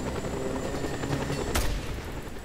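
A helicopter in the video game Just Cause 2, its steady rotor drone under a continuous rattle of gunfire, with one sharp loud blast partway through.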